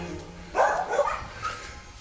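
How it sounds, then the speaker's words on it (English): The neighbours' dogs bark outdoors beside a house in a short, distant burst of a few yips and woofs that rises and fades within a second or two over quiet background. "You can hear the dogs next door."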